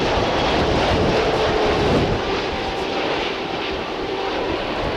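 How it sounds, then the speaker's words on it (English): An American Airlines Boeing 787-8 Dreamliner landing at DFW Airport produces a loud, continuous jet engine roar with broad rushing noise and some wind buffeting. The roar holds steady and eases slightly toward the end. "That's an American Airlines Dreamliner, 787-8, coming in from Tokyo."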